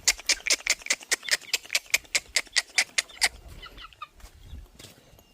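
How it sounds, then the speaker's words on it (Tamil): A rapid run of sharp, evenly spaced clucks from chickens close by as they gather for feed, followed by softer scattered clucking and rustling. "கோழிகள்லாம் நம்மளை சுற்றி சுற்றி வருது"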